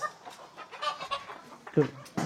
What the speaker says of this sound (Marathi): कोंबड्या मस्त फिरतात बघा प्युअर गावठी आहेत